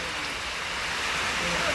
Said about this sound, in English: So we're taking a little shade from the rain.